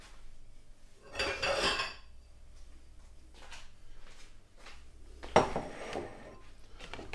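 Dishes clinking as a bowl is fetched in a home kitchen: two clear bursts of ceramic rattling and clattering, with quieter taps and knocks in between.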